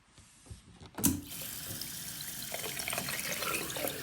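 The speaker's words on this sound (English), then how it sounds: "Now I'll fill the pot with water." A tap opens with a clunk and water gushes steadily into a big pot, a continuous hissing splash that stays close and even.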